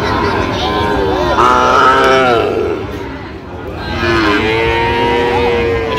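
Sahiwal breed calves moo loudly and repeatedly at a busy rural cattle market in Dinajpur, their long harmonic calls rising over steady crowd chatter and hubbub.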